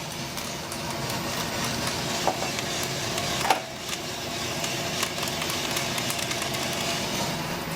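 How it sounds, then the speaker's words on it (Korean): Coffee beans reaching first crack in a roaster, with a few sharp, sparse pops over the steady, loud whir and rumble of the roasting drum. "이 1차 크랙은 물리적인 거로 커피가 부풀면서 커피가 깨지는 소리가 되거든요"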